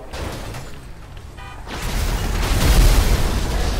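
A deep, rumbling bomb explosion in GTA 5 on PS4 swells midway and rolls on as a heavy boom, loud and close, with a short mechanical rattle just before it.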